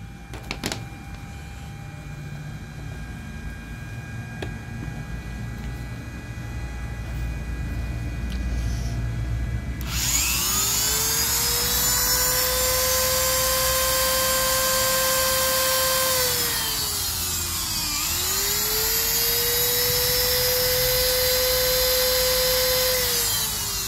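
DIY solar generator power inverter switching on and running, a steady electronic whine with rising and falling tones that starts abruptly partway through and continues, fairly loud and close, with no talking.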